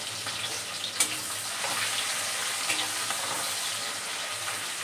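Onions fry in a hot pan with a steady, broad sizzle throughout, broken by a few brief stirring scrapes and clinks, with no talking.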